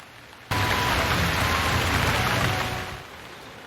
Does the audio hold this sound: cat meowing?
no